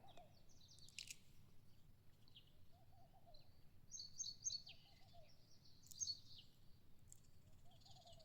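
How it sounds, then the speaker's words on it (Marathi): Small birds, sparrows among them, chirp in a quiet village: a few short, high, faint calls come in scattered bursts over a soft, low background hush with no talking. "बघा कसे पक्ष्याचे आवाज ऐकायला येते तुम्हाला, चिमण्यांचे, वल्यांचे, पारव्यांचे आवाज."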